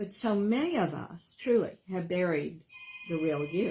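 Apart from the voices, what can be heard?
telephone ringing during a radio show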